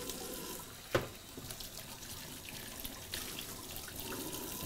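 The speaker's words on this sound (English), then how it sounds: "definitely give that a quick rinse" A greasy pan rinsed under a running kitchen tap, with a steady, fairly quiet rush of water, a sharp knock near the start and some splashing, no voices.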